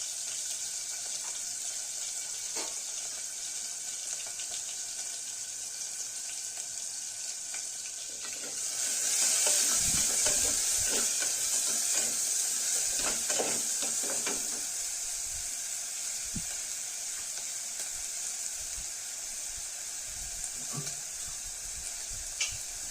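Onions frying in oil in a pot for handi mutton, a steady sizzle throughout that swells into a louder, brighter hiss midway, with some stirring clatter and no talk.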